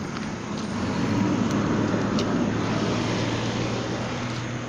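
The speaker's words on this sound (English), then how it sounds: "hold on, garbage truck." A garbage truck passes close by with a loud, steady diesel roar that builds and holds, with faint hissing and clatter over the top.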